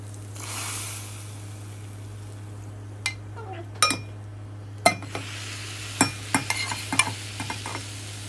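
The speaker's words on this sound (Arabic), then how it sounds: "هسيبكم دلوقتي بقى مع احلى طشه، اسمعوا وشموا الريحه" Garlic and coriander frying in hot oil for molokhia. A soft, steady sizzle runs underneath while a utensil stirs and clinks against the pan in scattered, sharp taps.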